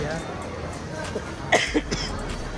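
A couple of short, sharp coughs close by, following a stretch of quiet background murmur.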